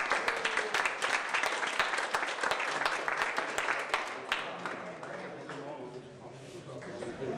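Applause from an outdoor crowd honouring the volunteers who built a giant flower mosaic in Lisse, dense clapping that carries steadily and then thins out toward the end.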